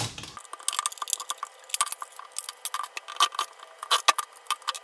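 Small metal screws and tools clicking and scraping against the plastic case of a Huawei WS8000 router during disassembly, a dense run of close, light taps and rattles with no speech.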